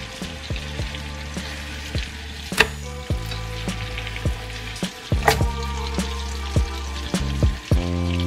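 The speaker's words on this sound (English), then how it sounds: "I-fry ating pork chop." A pork chop frying in butter in a pan, giving a steady, close sizzle and crackle with scattered popping spatters throughout and no talking.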